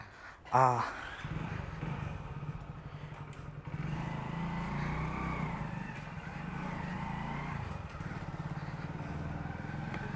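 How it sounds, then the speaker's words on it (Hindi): A learner-plated motorcycle starts up with a sharp burst, then a steady mid-pitched engine drone runs throughout, close by and fairly loud, with no clear talk over it. "अब हम तुम्हारी बाइक चलाएंगे"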